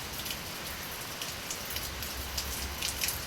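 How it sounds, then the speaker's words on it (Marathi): Rain falls steadily on a tiled terrace among tall buildings, a dense, even patter of drops that continues throughout without speech. "पडतोयच अजून पाऊस."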